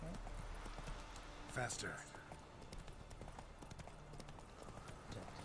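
Roach, a horse in The Witcher 3: Wild Hunt, trots with steady clip-clop hoofbeats under game ambience, while someone speaks briefly over it.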